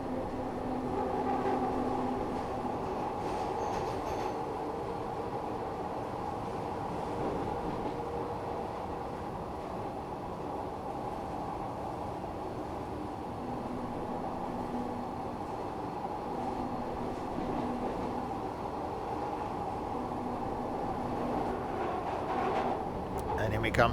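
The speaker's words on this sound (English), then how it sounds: "So the train will accelerate on its own." Glasgow Subway train in the video game Train Simulator Classic, running between stations near Ibrox and Kinning Park: a steady rumbling roar with a faint rhythmic clatter of the wheels, lasting throughout, while someone talks over it.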